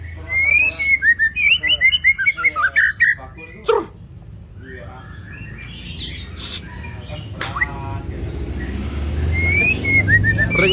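A white-rumped shama (murai batu) sings loud, close whistled phrases and a rapid pulsed series of notes, with people talking nearby and some background noise.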